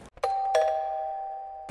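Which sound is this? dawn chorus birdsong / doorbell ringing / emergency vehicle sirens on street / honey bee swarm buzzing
doorbell ringing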